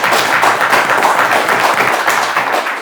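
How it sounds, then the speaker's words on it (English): Studio audience applause at a podcast taping welcoming two radio DJ guests, a steady wash of many hands clapping throughout, fairly loud and sustained with no talk over it. "Clap it up"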